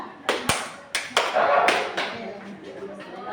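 Five distinct hand claps land in an uneven rhythmic pattern during a concentration clapping game in a classroom, sharp and close, with a voice speaking lightly around them.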